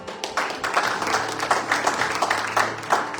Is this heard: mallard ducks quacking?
no